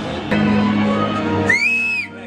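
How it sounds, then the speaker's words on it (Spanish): A loud, steady whistle holds one pitch, then a second whistle rises and falls in a sweeping arc above a continuous crowd murmur, as a World Cup crowd whistles during a national anthem. "Miren cómo le chiflan el himno."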